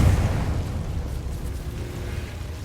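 A Confringo blasting spell explodes in Hogwarts Legacy, a heavy close boom at the start that rumbles and fades over a couple of seconds.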